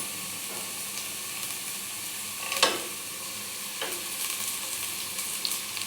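Ingredients fry in hot oil for plain biryani, browning while being stirred. A steady, close sizzling hiss runs throughout, with a few louder scraping stirs, and no one speaks.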